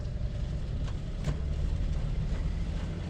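An old three-on-the-tree truck engine pulling away in first gear around 1,800-2,000 RPM, a steady low rumbling drone that stays even and close throughout.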